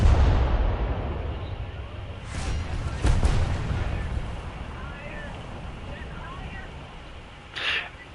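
Naval guns firing in War Thunder, with a sharp boom near 2.3 s, a louder blast around 3 s and a brief distant burst near 7.6 s, all over steady wind and sea rumble.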